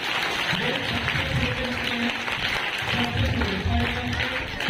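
Children at a school general-knowledge quiz competition applaud in a dense, steady crowd clapping that fills the room, with voices murmuring underneath.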